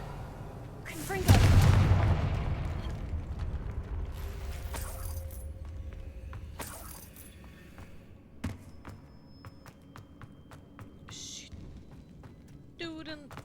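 A loud Confringo spell explosion booms in Hogwarts Legacy, a heavy blast that rumbles and slowly fades, followed by smaller crackling impacts and scattered game effects over several seconds.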